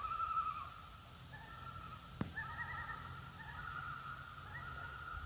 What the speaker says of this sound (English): Loons.